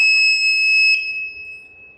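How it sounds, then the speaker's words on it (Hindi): An alarm on a GSK 980MDI CNC controller sounds as a loud, steady electronic tone, holding continuously and fading slightly toward the end. "मैंने X को प्रेस किया तो अलार्म बज गया"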